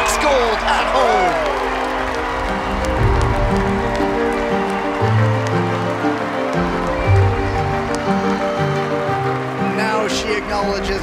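A home crowd at a velodrome roars and applauds continuously after Kelsey Mitchell wins the women's track cycling sprint gold at the UCI Track Nations Cup, with a commentator's voice running over the cheering.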